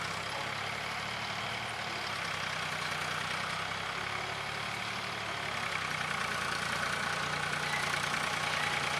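Tractor engine running steadily at a distance, a faint continuous idling drone with broad noisy hiss and no speech.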